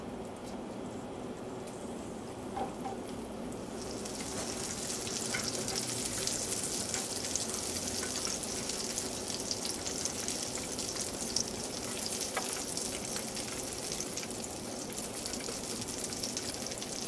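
Food fries in a pan of saved bacon grease, giving a steady, close sizzle that crackles and pops continuously and grows slightly fuller after the first few seconds, with no talking.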